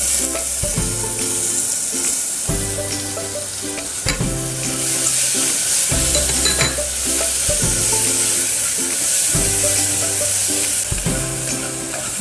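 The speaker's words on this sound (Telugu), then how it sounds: "ఇప్పుడు పెసలు వేసేసుకుందాం." Moong dal sizzles and fries in hot ghee, with a loud, steady crackle broken by repeated rhythmic scraping strokes of a spoon stirring the pan.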